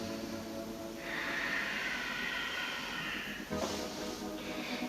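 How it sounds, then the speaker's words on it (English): Slow nasal breathing during a yoga flow, a long hissing exhale through the nose followed by a shorter breath, close and audible without talk. "Breathing in and out through the nose."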